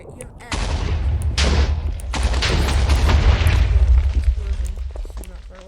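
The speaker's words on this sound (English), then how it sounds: "Explosion. Not far away." Explosion in a modded video game, a loud booming blast with a rumbling, crackling tail that lasts several seconds, with a voice briefly over it.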